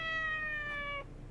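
In the video game Yakuza 4, a cat lets out a single drawn-out, clear meow that holds steady for about a second before cutting off, heard close and alone without talk.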